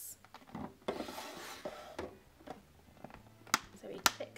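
A plastic cover snaps into place on a Mulu emergency exit bulkhead light, with rubbing and handling noises followed by two sharp clicks close by, and a person talking through it.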